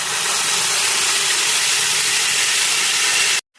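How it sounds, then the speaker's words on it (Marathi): Cooked urad dal hits a hot tempering of spices and oil, giving a loud, continuous broad sizzle that holds steady for several seconds before cutting off suddenly. "आणि आता शिजवलेली उडदाची डाळ त्यामध्ये टाकायची."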